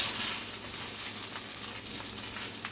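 Onions fry in a hot pan with a constant crackling sizzle, broken by occasional sharper pops and faint stirring noises, close and steady with no voices.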